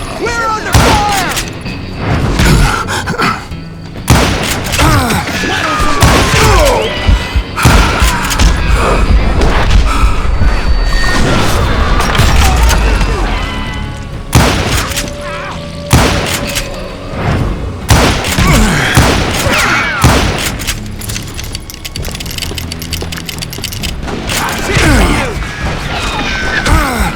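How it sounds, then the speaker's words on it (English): Gunfire in the Western shooter Call of Juarez: Gunslinger: repeated loud shots and heavy impacts keep coming through the whole stretch, mixed with explosions and voice-like game chatter in dense, continuous combat. "Who's shooting at us? We're under fire!"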